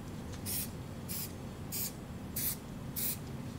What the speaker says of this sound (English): let's just go ahead and just do one more spritz